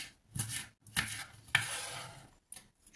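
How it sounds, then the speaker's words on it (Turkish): A knife slicing and chopping green peppers on a board, several close, crisp cutting strokes in uneven bursts with short pauses between them, recorded in a home kitchen. "karşılıklı olacak şekilde biberleri dilimliyorum ve doğruyorum"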